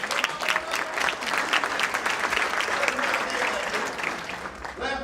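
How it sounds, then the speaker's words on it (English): An audience applauds Congressman Johnson at an HBCU pre-law event, with dense, sustained clapping from a room full of people and a few voices faintly mixed in. "I think he deserves a round of applause"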